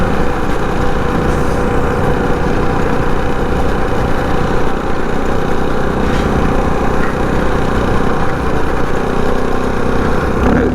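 A mini pit bike engine runs continuously, close and loud, with a buzzy, steady drone and no clear revving changes. No one talks over it.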